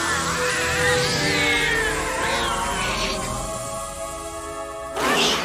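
A cat meows and yowls in a drawn-out, loud, wavering cry from a movie scene, with a short sharp burst at the end.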